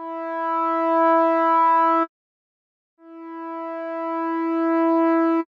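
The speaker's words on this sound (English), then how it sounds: "by bringing this up from the lowest level, it'll take a while for the sound to fade up to its maximum level" Synthesizer tone shaped by a slow attack envelope, two steady held notes that each swell gradually from silence to full level, separated by a short gap of silence.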